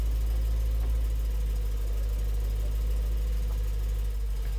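A BMW E93 M3 with its S65 V8 and an aftermarket carbon fibre intake idles steadily, a deep, loud, constant rumble with a low throb and no change in pace.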